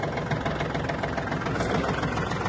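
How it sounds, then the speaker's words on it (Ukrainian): Japanese Kubota L1-185 mini tractor running with its power take-off engaged to drive a lowered rotary tiller, giving a steady, close, loud mid-pitched diesel drone with a slight knocking vibration and no speech. "Поки фреза опущена, давайте включимо вал відбору потужності."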